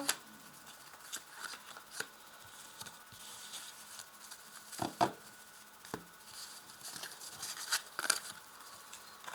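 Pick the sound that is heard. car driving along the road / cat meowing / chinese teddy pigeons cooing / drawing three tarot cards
drawing three tarot cards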